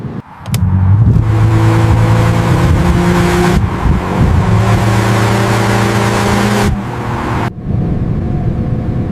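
A car being driven too fast roars loudly with two long engine revs climbing in pitch, a brief dip between them, before the noise cuts off abruptly near the end.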